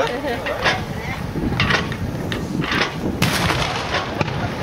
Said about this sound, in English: Okay, go ahead and fire, Dale.